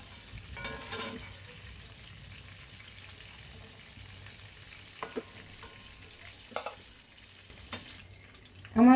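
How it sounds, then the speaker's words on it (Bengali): Rohu fish pieces fry in a pan with a faint, low sizzle. Occasional utensil clicks and clatters sound at intervals, ending in a louder knock. "আমি এটা 5 মিনিট ভাজা করব।"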